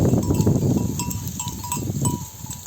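Goats or sheep on a farm, grazing on stubble fields: close, loud bleating and animal calls with low rustling and a faint bell-like clink, no talking.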